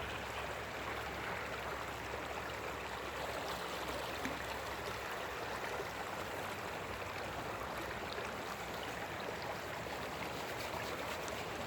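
Cold creek water, around 47 degrees, flows steadily at a Colorado gold-mining spot, a continuous broadband rush and gurgle with no breaks and no voices.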